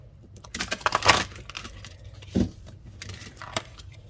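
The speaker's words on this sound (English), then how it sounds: "We'll give it a good shuffle and then get 3 cards" Crisp riffling of playing cards in a couple of quick bursts, with lighter flicks and taps between them, fairly close.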